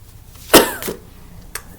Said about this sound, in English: I will be coughing through this